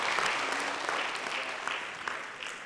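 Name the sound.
audience applause welcoming guests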